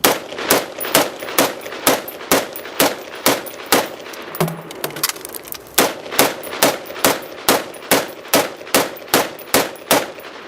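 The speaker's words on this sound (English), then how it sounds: "Now we'll shoot the same target array with 2 10-round magazines." Rifle gunfire strikes a target array across two 10-round magazines: loud, evenly spaced shots in a steady rhythm, broken by one brief pause midway for the reload, then the string resumes to the end.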